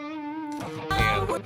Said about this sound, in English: one guitar by itself sounds like this